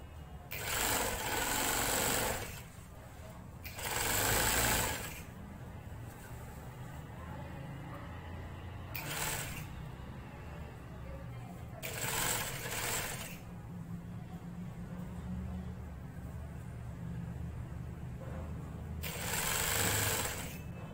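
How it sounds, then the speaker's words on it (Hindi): Sewing machine stitching the sleeves of a peplum frock, several loud bursts of rapid needle chatter separated by quieter pauses of fabric handling, close and clear. "ये देखें इस तरह से मैं सिलाई लगा लूंगी, और दूसरी तरफ की इसी ट्रिक से।"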